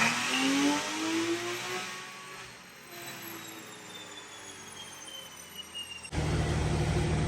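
A 986 Porsche Boxster S engine runs on a dyno, a loud sustained mechanical whine that sweeps through its revs toward 7500 rpm, then cuts abruptly to a rougher, steadier roar.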